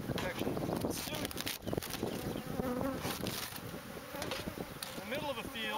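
A dense, steady buzzing of a large bee swarm, about 60,000 bees being removed from a camper in a field, fills the whole clip, close and continuous, with some muffled voices mixed in.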